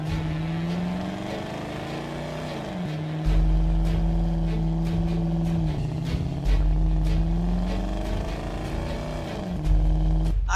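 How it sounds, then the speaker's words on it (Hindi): Cartoon car racing after a train, its engine droning and revving through repeated gear shifts, loud and close, with clicks and thumps over the motor and no talking. "छोटू और लंबू अपनी गाड़ी में ट्रेन का पीछा करने लगते हैं।"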